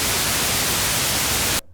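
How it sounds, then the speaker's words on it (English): Pink noise from the noise generator of a Korg ARP 2600M synthesizer, a loud, steady hiss that holds for about a second and a half and then cuts off abruptly into silence. "Now we're into pink noise"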